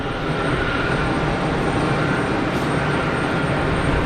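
A Gulfstream business jet taxis at Geneva Airport, its engines producing a steady, loud broadband roar that holds constant throughout with no pauses.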